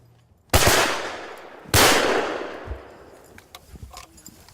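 An old side-by-side shotgun fires two loud shots at pigeons in woodland, about a second apart. Each blast is followed by a long, fading echo through the trees.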